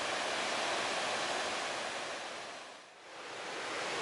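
A lively Mid Wales waterfall in Cambrian woodland rushes over rocks in a loud, continuous broadband roar, heard close up. The level dips briefly near the end, then swells back.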